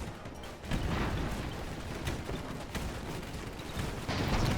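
Minigun fire from airships in the strategy game Airships: Conquer the Skies, a rapid, dense rattle of shots with mechanical clatter, fairly quiet and steady throughout.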